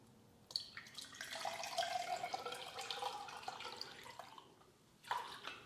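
Thick aloe vera juice poured by hand into a glass, a steady close liquid trickle and splash lasting several seconds, with a brief louder slosh near the end.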